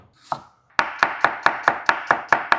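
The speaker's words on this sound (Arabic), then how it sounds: "اول حاجه هنقطعها مربعات بالشكل ده" A knife cuts beef into cubes on a cutting board. One isolated chop is followed by eight steady, evenly spaced chops, each a crisp close thud. The chopping is loud, with no talk.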